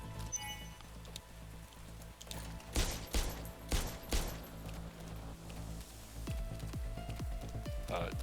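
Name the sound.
gunshots in video game Parasite Mutant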